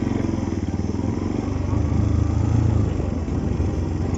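A motorbike engine thrums in a close, steady low pulse with a slight rise in the middle, ridden on a rural road in Nuwakot, Nepal, with no voices over it.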